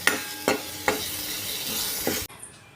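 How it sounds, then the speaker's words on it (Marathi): Coarse green chili paste hits hot oil in a kadhai with a loud broadband sizzle, broken by a few sharp spoon scrapes and stirs, then the frying drops away abruptly near the end. "तेल गरम झालं ही भरड टाकूयात मिरचीची त्याला परतून घेऊ"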